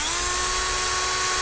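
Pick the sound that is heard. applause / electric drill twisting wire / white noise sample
electric drill twisting wire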